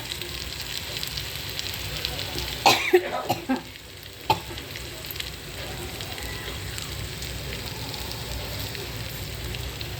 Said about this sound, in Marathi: हे लसूण आणि मिरची टाकली तेलात.